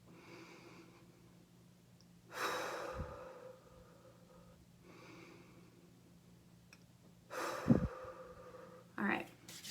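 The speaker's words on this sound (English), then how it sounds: "we're just going to take 3 deep breaths" Three deep breaths taken slowly during a guided breathing exercise, each a soft, drawn-out inhale or exhale spaced a few seconds apart, close and fairly quiet against low background noise, with no talking.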